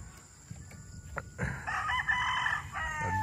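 A gamecock stag crows once, loud and close, in a farm breeding area with some background rustle before the call.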